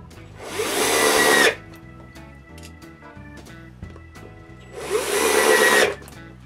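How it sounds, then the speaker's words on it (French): A power driver screwing a turntable plate onto a wooden circle, two loud whirring bursts of about a second each separated by quiet handling clicks, close to the work, with no voices. "Je commence par visser le plateau tournant sur le premier cercle."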